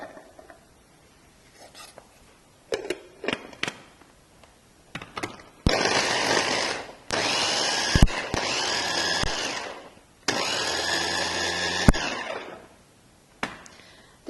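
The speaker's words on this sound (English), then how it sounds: "we can do away with that and do our chopping with a blender" Blender chopping ingredients for Malaysian fried vermicelli (bihun goreng) in a kitchen, running in two loud whirring bursts of a couple of seconds each, separated by short pauses and preceded by scattered clicks and knocks.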